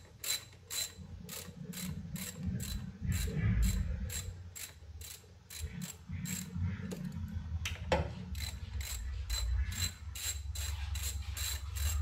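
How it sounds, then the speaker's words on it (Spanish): Ratchet wrench loosening the valve cover bolts on a 2002 Honda Civic engine, a steady run of fast, close clicking bursts repeating throughout with a low mechanical rumble underneath. "Y continuamos soltando todos estos tornillos que están en la tapa de válvula."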